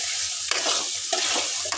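Carrots frying in oil with salt being stirred in a pan, steady bright sizzling with repeated scraping strokes of the stirring utensil at an uneven rhythm, close and fairly loud.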